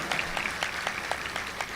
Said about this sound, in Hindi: तो इसलिए एक बार ताली और बजा लो आप लोग